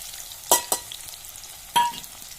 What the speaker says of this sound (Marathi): छान आपण मस्त कांदा गुलाबी रंगापर्यंत तळून घेऊया